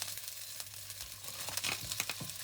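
Japanese and Chinese fish cake with prawns frying in a wok, a steady quiet sizzle with soft stirring scrapes and crackles, no talking.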